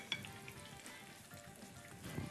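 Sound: food frying in oil in pan

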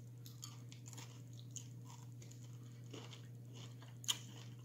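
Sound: chewing crunchy Reese's Pieces candy

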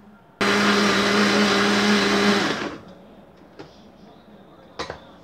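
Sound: blender blending milk and green corn

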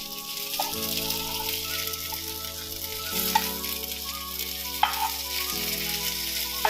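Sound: bangude mackerel fish frying on a tava

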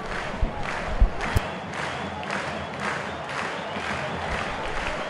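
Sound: football stadium crowd applauding, Londrina supporters

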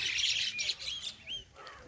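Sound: birds chirping in misty Kodaikanal morning

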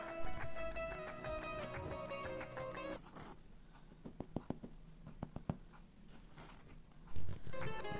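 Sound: tapping a well-baked wheat-rye bread loaf

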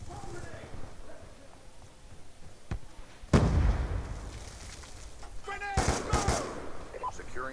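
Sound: gunfire in the video game Call of Duty Black Ops 2

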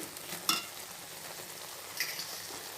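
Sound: bottle gourd halwa boiling in pan

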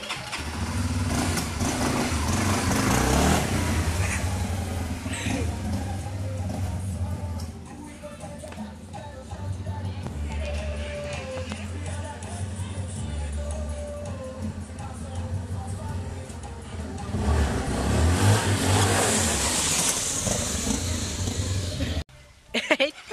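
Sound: Honda CB300 motorcycle engine revving for a wheelie

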